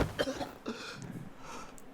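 A cartoon character from the Chainsaw Man anime coughs in a few short, harsh bursts, fairly close and loud, with a rough throat-clearing quality and no talk over it.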